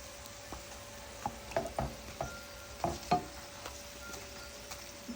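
Soft frying sizzle comes from a traditional, non-modern pan, broken by a series of quiet taps and scrapes from a spoon at an irregular pace. The sound stays fairly faint and close, with no voices.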